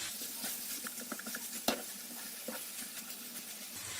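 Half a kilogram of minced meat with a spoon of salt cooking over softened, browned onions in a pan for eggplant musakka, a soft steady sizzle with light stirring scrapes and occasional sharper clicks, close and quiet.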